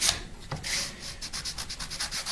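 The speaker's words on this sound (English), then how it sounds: "Just gonna do a quick sand here just to make sure I'm nice and clean." Hand sanding the wooden body of a custom nine-string electric guitar: a steady scratchy rasp in quick back-and-forth strokes, close and moderately loud, with no talk.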